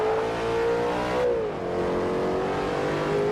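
Race car in a racing video game accelerating around a track, a steady, close engine whine that climbs in pitch, drops sharply at a gear change, then rises again, with a faint undertone of road noise.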